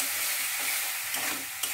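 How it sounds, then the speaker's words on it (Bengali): Spice paste with turmeric fries and is stirred in a pan, a close, steady sizzle with soft scraping of the spoon and a light knock toward the end. "ভালো করে মশলাটাকে কষাতে হবে।"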